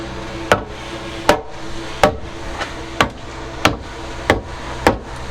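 A hammer knocks a wooden deck plank down onto the beams of a boat during deck repair: seven or so sharp, fairly loud strikes at a steady, unhurried pace, each ringing briefly against a low background hum.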